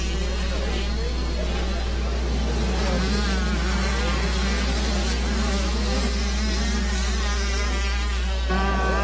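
Youth 65cc motocross bikes racing at Loretta Lynn's, a loud buzzing drone of several small two-stroke engines that rises and falls, with a person talking over it throughout.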